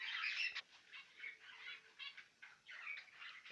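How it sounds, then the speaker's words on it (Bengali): Adult finches in an aviary give a quiet run of chirps and twittering calls, heard fairly close against a still background. "আপনারা দেখতেছেন অ্যাডাল্ট ফিঞ্চ।"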